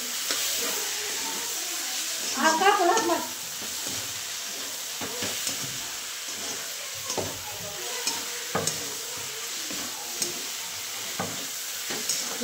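Tomato curry with black chilli powder being stirred in a pan, a soft sizzle under repeated scraping strokes of a spoon against the pot, with one louder clatter early on and no talk.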